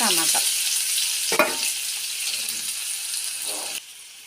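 Onions frying in a pan for Maggi noodles, a bright continuous sizzle with a few sharp stirring scrapes and clinks near and loud, the hiss cutting off abruptly near the end.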